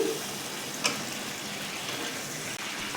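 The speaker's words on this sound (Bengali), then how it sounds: "কিমা সেদ্ধ জল বা স্টকটা ছিল সেটা দিয়ে দিলাম দিয়ে ভালো করে মিশিয়ে নিচ্ছি" Keema curry being stirred in the pan just after the mince stock goes in, a soft steady sizzle and simmer throughout with a brief clink of the spoon near the start.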